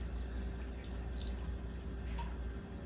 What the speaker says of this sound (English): We're gonna add some boiling hot water, and this is gonna rehydrate the peppers.